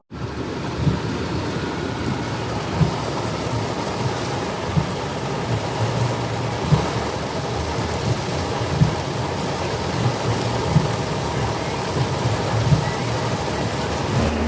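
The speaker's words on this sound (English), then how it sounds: "we got caught in like the worst storm ever." Heavy rain pours steadily during a severe thunderstorm, a loud dense wash broken by soft low rumbles of thunder that recur every couple of seconds.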